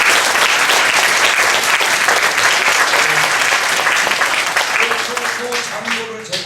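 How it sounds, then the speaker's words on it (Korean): A congregation at a church pastors' training seminar applauds its hosts with dense, sustained clapping that fills the room, fading slightly near the end as a voice starts to speak over it. "우리 감사의 박수 한번 합시다."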